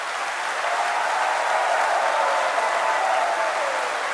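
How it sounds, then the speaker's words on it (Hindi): A studio audience at the Aap Ki Adalat TV show claps continuously, a dense, even wash of applause that holds steady throughout without voices on top. "वो लोग ताली बजाकर, हाथ उठाकर समर्थन करें।"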